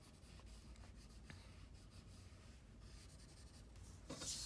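Graphite pencil shading strokes on paper, a steady soft scratchy rubbing that continues without pause, fairly quiet and close, with a brief louder rustle near the end.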